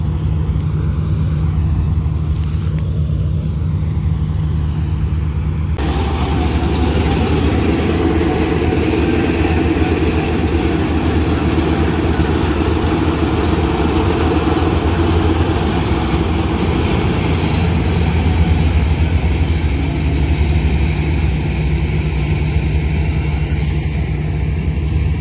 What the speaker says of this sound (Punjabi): ਗਾੜੀ ਕੈਸੀ ਕਟਾਈ ਕਰ ਰਹੀ ਹੈ ਸੁਬਹ ਸੁਬਹ